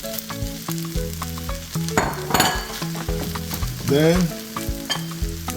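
Shrimp fry and get stirred in a hot pan for fried rice, making a loud, continuous sizzle with repeated scraping and clinking from the utensil against the pan. A voice speaks a single brief word.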